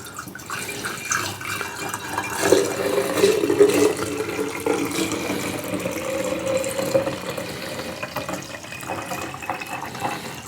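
Homemade carrot cake moonshine poured through a funnel into jars, a steady watery trickle and splash running close and continuous, rising and filling throughout without any talk.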